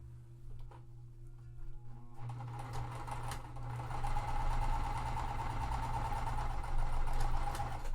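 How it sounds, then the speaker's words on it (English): A sewing machine stitches quilt squares for a Tree of Life quilt, starting with a low hum and faint clicks, then running continuously at a fast, buzzing pace that grows slightly louder. "making sure that I am sewing on the correct side"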